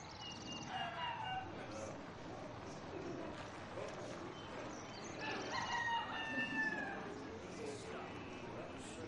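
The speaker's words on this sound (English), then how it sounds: "Chickens." Chickens cluck and a rooster crows repeatedly at a moderate distance, with several drawn-out calls rising over a steady background hiss and some animal chatter throughout.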